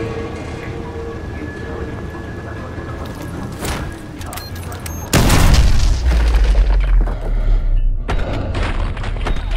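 A breaching charge goes off with a loud, sudden boom midway through a tense Call of Duty Modern Warfare 2 mission, followed by rumbling debris and continuing clatter after a quieter lead-in.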